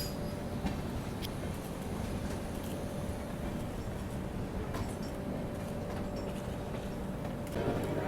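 A passenger train runs alongside the Howrah–Amritsar express just after leaving DDU, heard as a loud, steady, unbroken roar of wheels and rolling stock close by.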